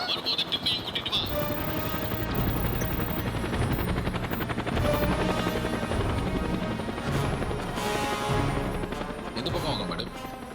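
A loud helicopter thrums continuously, its rotor chop filling the scene with dense mechanical noise and brief crashing sounds.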